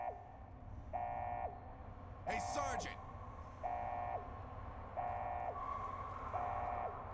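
A siren-like alarm wails in Fallout New Vegas, a video game, repeating as evenly spaced rising and falling tones over a steady background rumble, with a voice calling out briefly.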